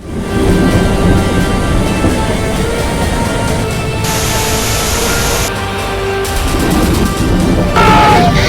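Heavy monsoon rain in Gujarat pours in a loud, dense, unbroken roar with low rumbling underneath, shifting slightly in intensity throughout and with no voices.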